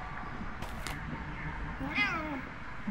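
A cat meows in the Pathologic 2 video game, one clear mid-length mew with a rising then falling pitch, heard over a low ambient game background with a few soft thuds earlier.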